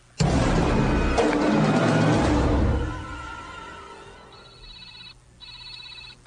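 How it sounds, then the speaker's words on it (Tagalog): A telephone rings loudly at first amid a harsh, crashing burst of noise, then fades to quieter tonal chirps and rings near the end. "Pahiluman ninyo ang telepono!"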